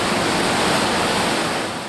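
Water rushes through the underground streamway of Speedwell Cavern in a loud, continuous roar that surrounds the listener and holds steady throughout, with no voices.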